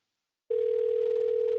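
A steady telephone dial tone sounds alone on a line during a call, starting abruptly after a short silence and holding at an even, moderately loud level.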